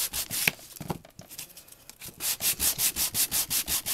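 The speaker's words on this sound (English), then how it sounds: "I'm not going to sand the whole thing." Sandpaper rubs over a rubber-stamped image to give it a distressed look, starting with a few scattered scrapes and then settling into steady, rhythmic back-and-forth strokes, close and fairly loud, with no talking.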